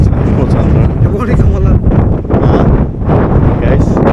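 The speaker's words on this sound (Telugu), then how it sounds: "గాలి ఇది విపరీతంగా వస్తుంది ఇంతవరకు లేదు మేము రాగానే ఎక్కువ గాలి స్టార్ట్ అయింది" Strong wind roars and batters the microphone in loud, continuous gusts along an abandoned railway track, with voices talking underneath.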